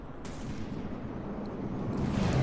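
Mortar fire in a vehicle combat video game: a dense, continuous rumble of firing and distant impacts, steady and fairly loud throughout, with sharper cracks rising near the start and end, no talk.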